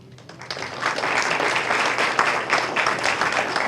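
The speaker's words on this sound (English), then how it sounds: "So give yourself a round of applause." Steady applause from a sizable crowd at a city council meeting in Killeen, many hands clapping at once in a dense, continuous wash that swells and holds.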